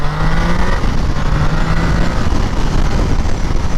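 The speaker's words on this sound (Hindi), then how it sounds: "I'll just show you how the motorcycle looks. But this sounds nice if you can listen." A 2022 Triumph Tiger Sport 660 three-cylinder engine runs close by, a loud, steady throaty rumble with no speech over it.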